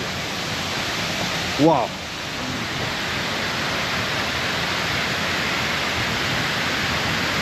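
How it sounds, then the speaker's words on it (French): Waterfall in Lombok, Indonesia, a loud, steady broadband roar of rushing water filling the scene from nearby, with one brief exclaimed voice early on. "Elle est belle cette cascade, ça déboule hein"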